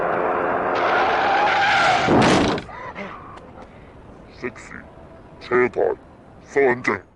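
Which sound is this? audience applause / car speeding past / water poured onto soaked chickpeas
car speeding past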